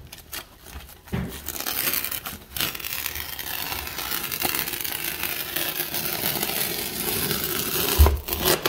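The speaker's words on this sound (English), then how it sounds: "I'm using my utility knife, and then" A utility knife scores and cuts laminate flooring with a continuous scraping, rasping drag lasting several seconds, close by and moderately loud, framed by a few sharp knocks at the start and end.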